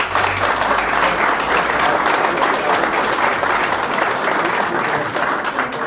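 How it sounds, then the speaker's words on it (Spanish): Steady, dense applause from an audience at a cooperative gathering, many hands clapping loudly and continuously throughout without pause. "Y ya que estamos aplaudiendo,"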